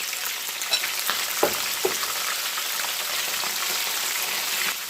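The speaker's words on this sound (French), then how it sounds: "je mets mes crevettes dans mon huile" Shrimp dropped into very hot oil for a crispy salt-and-pepper Asian dish, frying with a steady, dense sizzle and a few sharper pops and crackles near the start, close and continuous with no talking.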